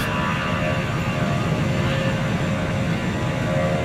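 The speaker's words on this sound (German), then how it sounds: "der muss natürlich jetzt erstmal die Triebwerke anwerfen" Antonov aircraft engines spool up for takeoff in the Transport Fever 2 game, a steady, loud roar and whine that holds constant with no talking.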